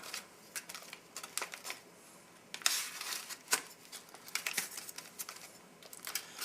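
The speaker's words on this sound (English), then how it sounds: "I'm going to cut it the way I usually do." Close-up crinkling and snipping as a pound cake packet from a 2004 MRE Menu 5 ration is cut open, with irregular sharp plastic rustles and crackles, some louder bursts midway, and no talk.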